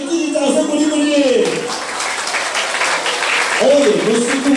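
A crowd at a Taiwanese elementary school ceremony claps warmly for an honoured education official, with steady applause running throughout and a speaker's amplified voice carrying over it at the start and end.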